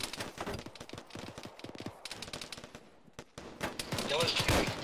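Gunfire in a military video game, with rapid bursts of automatic shots and scattered single cracks, some distant and some closer, mixed with background radio chatter.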